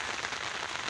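Rain falling in a big downpour, a dense steady hiss of drops spread evenly across the short moment, close and fairly loud.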